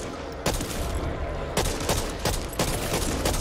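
Gunfire in Back 4 Blood, several sharp close shots punching through a steady noisy backdrop of continuous firing, spaced about a second apart.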